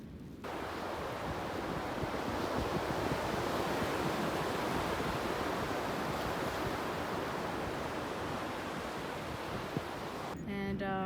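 Ocean waves breaking at a beach, a steady broadband roar of surf with wind that starts abruptly and fills the whole stretch, loud and close; a brief voice comes in right at the end.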